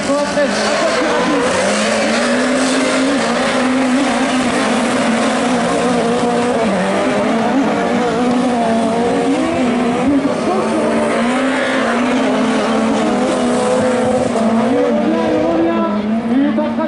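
Rallycross race cars roar continuously at full throttle during a French championship final at Lessay, engines rising and falling as they pass, with tire squeal and a commentator talking over the racket.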